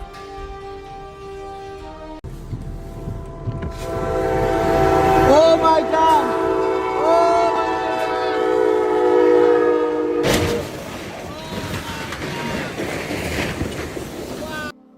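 A train rumbles closer and blasts its loud horn in long sustained tones, with wheels clattering; a person exclaims briefly in alarm.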